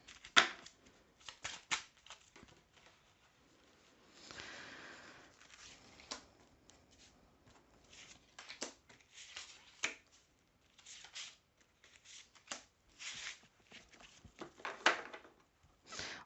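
Tarot cards being shuffled by hand, soft quick riffles and taps in irregular bursts, close and quiet with no talking.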